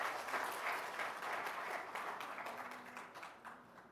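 A congregation applauds the Lord during a live church worship service, a steady broadband wash of many hands clapping that stays fairly loud and sustained throughout before easing slightly toward the end.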